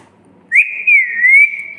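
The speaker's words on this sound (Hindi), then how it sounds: "सीटी बजा के दिखाता मम्मी को है ना" A child whistles with the mouth, a single clear sustained note that wavers slightly, loud and close against a quiet background.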